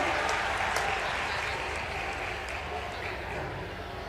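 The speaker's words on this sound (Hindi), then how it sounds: "जोरदार तालियां हम सबकी ओर से होना चाहिए" A large audience applauds warmly in a steady, sustained wash of clapping to welcome the Vice President at an official ceremony in Madhya Pradesh, holding at an even level throughout.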